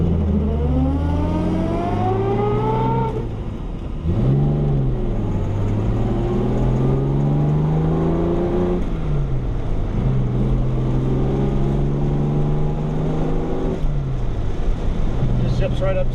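A 1964 Jaguar XKE Coupe drives at speed, its engine drone rising and falling through gear changes with a steady, loud tonal hum over road and wind noise for the whole stretch.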